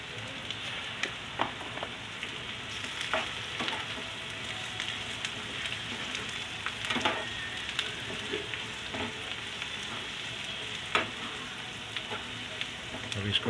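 Onions and chilies frying in a pan with turmeric and salt added: a continuous, dense, rain-like sizzle at moderate distance, steady throughout with occasional small crackles and pops.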